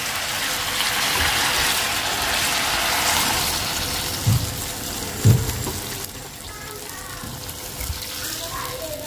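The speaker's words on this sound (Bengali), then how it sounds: "তো আমি এখন ঝোলের পানিটা দিয়ে দেব।" Water poured into a cauliflower curry simmering in a pan, a broad rushing splash for the first few seconds that eases into bubbling sizzle, with a couple of knocks and a faint voice.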